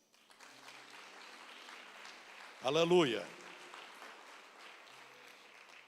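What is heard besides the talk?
church congregation applauding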